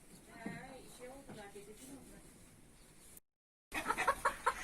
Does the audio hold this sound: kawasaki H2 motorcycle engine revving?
no